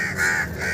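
A crow chick caws in Dubai, a hoarse, steady call held for under a second, close and fairly loud, rising and easing slightly with no talking over it.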